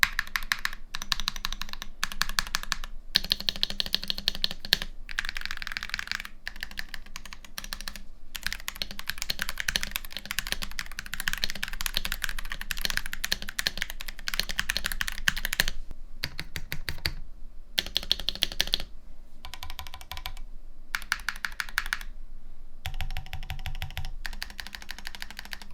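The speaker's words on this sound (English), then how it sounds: "let's go ahead and let's hear what this sounds like" Higround x Gundam Summit mechanical keyboard typed on up close, a fast continuous clatter of clacky keystrokes broken by short pauses, with no talking.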